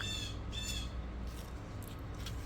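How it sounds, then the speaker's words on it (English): A few harsh bird squawks ring out faintly in the distance over a steady low background rumble. "I'm sorry you can hear the birds outside"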